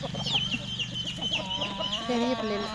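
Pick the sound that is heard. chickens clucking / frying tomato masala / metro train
chickens clucking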